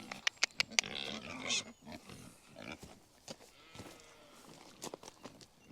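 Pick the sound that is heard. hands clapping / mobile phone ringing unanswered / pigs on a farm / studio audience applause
pigs on a farm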